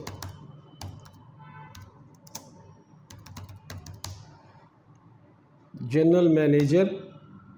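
Someone types on a computer keyboard: scattered, irregular key clicks close by and fairly quiet, then a person starts speaking near the end.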